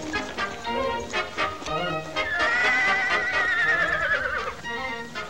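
A horse whinnies loudly with a long, wavering cry that rises and then trails downward, over a busy background of clatter and movement.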